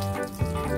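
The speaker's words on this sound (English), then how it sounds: "that's our fresh water running out now." Fresh water runs from a sink tap inside a converted bus, flowing steadily and heard close, with a short splashing gurgle partway through.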